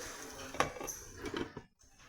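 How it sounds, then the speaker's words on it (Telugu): A metal lid set onto a cooking pot of egg tomato curry with frying onions: a sharp clink followed by a few lighter metallic rattles as it settles, close and fairly clear, then quiet. "ఇలా మూత పెట్టేసుకోండి."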